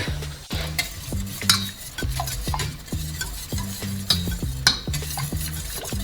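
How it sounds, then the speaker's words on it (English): A metal whisk stirs a thickening pastry cream sauce in a pan for choux pastry, making fast rhythmic scraping and clinking strokes close up, with a faint steady sizzle underneath and no talking. "Don't stop whisking."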